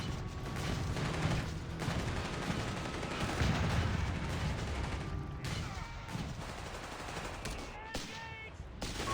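Machine gun fire in the Company of Heroes 3 strategy game, on the Pachino map in a 2v2 match, rattles in dense bursts under other battle noise, with a commentator talking over it.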